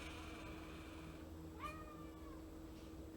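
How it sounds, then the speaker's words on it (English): A cat meows for treats in a quiet room, a single drawn-out, rising-then-falling call partway through over a steady low hum, with a faint second call just after. "Now Lupin is like, treats, hello. I don't have any kitty treats"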